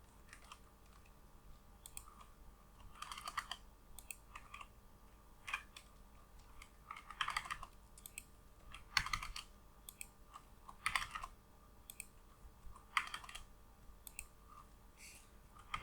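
Clicks from a computer keyboard as values are typed in, coming in quiet, irregular bursts of keystrokes with pauses between, close and faint with no talking.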